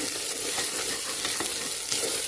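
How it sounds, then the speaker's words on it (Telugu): Ground cinnamon, clove and cardamom powder being stirred into a masala paste frying in a pan, giving a steady close sizzle with soft scraping of the stirring throughout. "ఇప్పుడు దీంట్లో దంచి పెట్టుకున్న చెక్క లవంగా యాలకలు పొడి వేస్తున్నాను ఇలా బాగా కలుపుకోవాలి"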